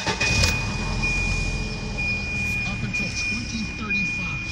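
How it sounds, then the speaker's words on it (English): A 1991 Volvo 740 engine starts and settles into a steady idle, a continuous low rumble running throughout with a faint high whine above it, close and fairly loud. "Starts right up just like a Volvo is supposed to start right up."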